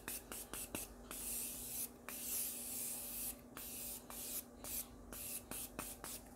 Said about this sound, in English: Let me spray my setting spray. We're going to use the Morphe Continuous Setting Spray.